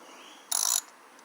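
A ratchet on a 10 mm socket turns out an ignition coil bolt on a 2017 Hyundai 2.0 engine in one quick, close, rapid clicking burst of about a quarter second.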